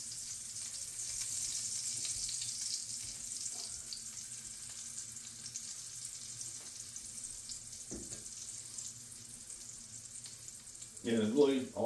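Hot dogs sizzle gently in a pan as they warm up on a farm breakfast stove, a low steady crackle with a brief clatter near the end.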